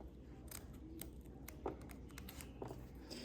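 Scissors snip through a zipper's teeth during sewing, producing a few faint, sharp clicks and snips in a quiet room.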